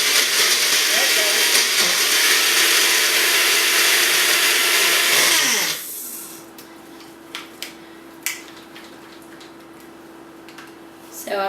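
A blender whirs loudly and steadily through tahini spearmint dressing for several seconds, then cuts off, leaving a quiet hum with a few clicks and knocks of a lid being handled.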